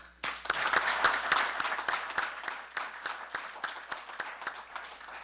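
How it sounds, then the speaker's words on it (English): A small group of people gives a round of applause at a city meeting, clapping steadily for several seconds and slowly thinning out, fairly close, with no talking over it. "we're all going to give you a round of applause right now"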